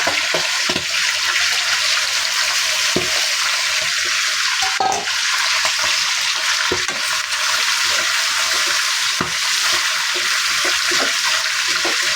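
Pre-fried vegetables going into a hot pan of thick, bubbling mixture, giving a loud, steady sizzle that runs throughout, with occasional soft knocks of stirring close at hand.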